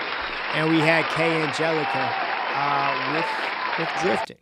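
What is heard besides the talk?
audience applause for performing artists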